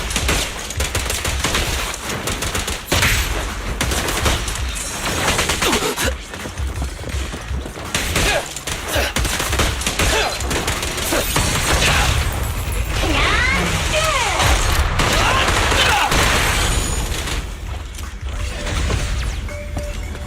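Gunfire during combat in the video game Zenless Zone Zero, continuous rattling shots mixed with mechanical clanks and ratcheting, sustained and fairly loud throughout with a brief voice now and then.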